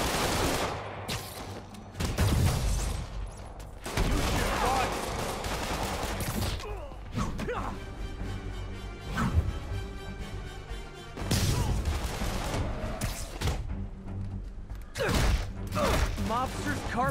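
Gunfire from police officers' guns in the PS4 game Marvel's Spider-Man, set in Hell's Kitchen, with repeated bursts and crashes over a dense game soundtrack, mixed with voices.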